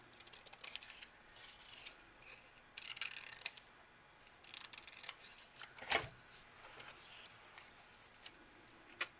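Scissors snipping paper for a bullet journal craft, a few faint crisp cuts and light rustling at close range in a quiet room.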